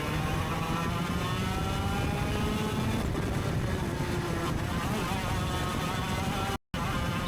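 A racing go-kart engine screams at high revs through a chicane during an Access Karting race at Whilton Mill, a continuous close buzzing drone with shifting pitch and wind rush, cutting out briefly near the end.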